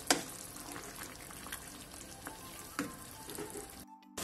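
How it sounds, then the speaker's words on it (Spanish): Pork cooks in a pan in its marinade for bifanas, giving a soft, steady sizzle and bubbling at close range, with a few faint stirring clicks, before it cuts off near the end. "Vertemos el resto del marinado encima y los vamos a seguir cocinando hasta que aproximadamente se haya consumido la mitad del caldo."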